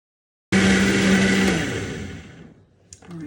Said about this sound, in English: Get the lid and blend.